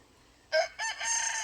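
A rooster crows on a small sustainability farm raising chickens: two short loud bursts followed by a longer drawn-out call, close by with no talk over it.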